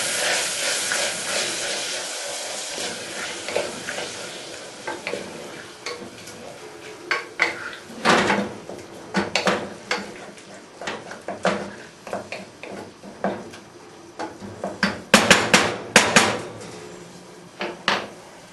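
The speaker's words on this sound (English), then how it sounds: "Hear the minced beef going again?" Minced beef sizzles in a pan over low gas for stew, a steady soft hiss broken by repeated clinks and scrapes of stirring, sharper clatters bunching toward the end, with no talking.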